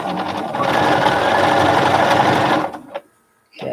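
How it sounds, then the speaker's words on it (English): A sewing machine stitches elastic onto fabric, running loud and steady for about two and a half seconds before stopping, followed by a brief clack and a short restart near the end. "So I'm sewing the elastic on one side."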